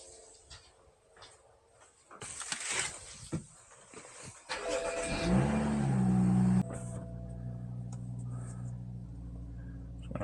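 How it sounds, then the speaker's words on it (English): A BMW M235i F22 starts and idles while being pulled out of a garage: clattering and rustling first, then the engine fires with a revving roar and settles to a steady low idle, close and loud. "I'm gonna go ahead and get the BMW pulled out, clear out some space in the back"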